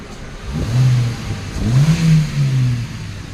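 A 2018 Hyundai Accent engine revs up to about 2000 RPM, two rising-and-falling swells of a mid-pitched engine drone heard close and loud, with no talking.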